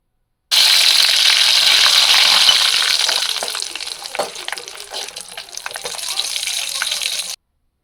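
A few drops of plain water hit hot homemade ghee flavoured with cardamom powder, setting off a loud, hissing sizzle that settles after a few seconds into quieter, uneven spitting and crackling.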